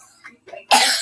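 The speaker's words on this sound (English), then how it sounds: "Okay, he's coughing." A single sharp cough from a person, loud and close, preceded by faint breathy sounds, all within about a second.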